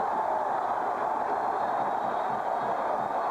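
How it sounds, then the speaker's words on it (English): A steady, dense roar from the crowd packing the old stadium at the 1986 Penn State at Notre Dame football game, a continuous loud wash of noise without breaks. "This old stadium is rattling"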